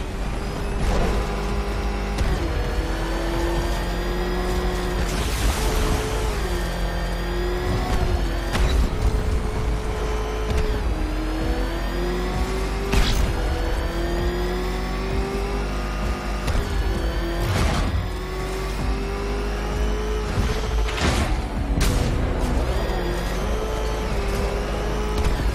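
Batmobile engine in Batman Arkham Knight driving continuously, a loud steady drone with shifting pitch as it accelerates and slows, broken by occasional sharp knocks and clanks over about 25 seconds.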